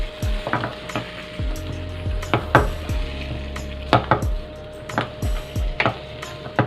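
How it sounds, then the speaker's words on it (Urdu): Mutton being stirred in a cooking pan, with repeated close metallic scrapes and clanks of a utensil against the pan in an uneven rhythm over a low sizzle. "مٹن ایڈ کر کے ہم اس کو تھوڑا سا ہلائیں گے اچھے سے اس کو"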